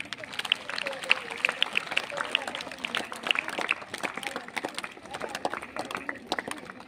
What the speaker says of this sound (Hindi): उनके लिए भी जोर की तालियां हो जाएंगी